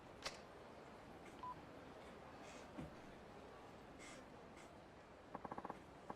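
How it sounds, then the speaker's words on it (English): Rapid electronic beeps of a phone call alert ring out in Yakuza 4 Remastered, a short burst of tones near the end over a quiet low background hum. "A phone call at a time like this?"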